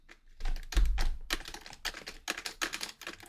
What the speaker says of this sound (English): I'm gonna ready up on my keyboard